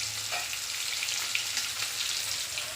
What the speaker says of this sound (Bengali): দেখো মাছটা এই যে ভাজছি